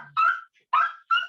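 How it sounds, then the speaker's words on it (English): A dog gives three short, sharp barks close by, spaced about half a second apart, in an indoor room during a lesson. "excuse the dog there"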